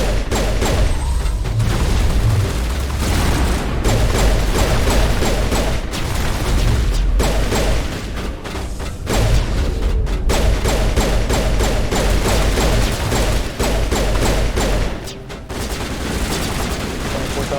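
Sustained gunfire in Mass Effect Legendary Edition, loud continuous bursts of rapid shots and booms forming a dense firefight with brief lulls, and a voice occasionally heard beneath the shooting.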